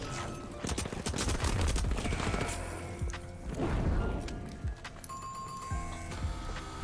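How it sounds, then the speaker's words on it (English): Gunfire and grenade blasts from a video game firefight crackle in rapid, irregular bursts, a mix of shots and explosive pops at moderate loudness with no talk over them. "Outgoing gas grenade"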